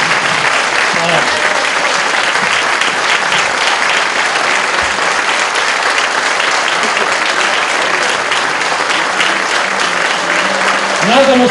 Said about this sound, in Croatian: Dame i gospodo, molim vas, pozdravite s velikim aplauzom Zorana Kesića, Marka Dražića, Nenada Milosavljevića, Viktora Miroslava